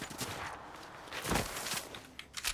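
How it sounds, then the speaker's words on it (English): Faint video game gunfire crackles in scattered bursts, a few sharper shots standing out near the end against a quiet background. "I hear gunfire, bro."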